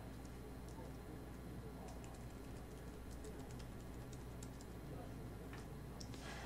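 Computer keyboard keys pressed in a quick, irregular series of faint clicks, held and tapped for navigation in weather-data display software, under a steady low hum with speech over it.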